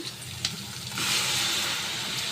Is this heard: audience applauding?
no